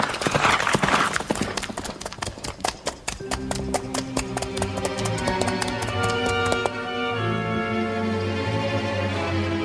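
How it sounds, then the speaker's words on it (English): Horses' hooves clip-clop at a walk in an old-time Western radio drama, the crisp regular taps close and clear before fading into a sustained musical underscore. "Bogus and Elk slow their horses to a walk to rest the animals."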